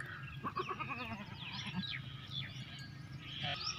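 A lot of eight goats bleats faintly and sporadically, with a cluster of wavering bleats near the start over a busy background of chirps and rustling.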